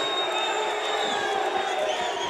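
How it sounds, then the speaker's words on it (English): A boxing crowd at the Salon Mezzanine cheers for fighter Rafael Ramirez, a steady wash of shouts and whoops filling the hall without pause. "has a contingent of fans here as well, showing and cheering for him"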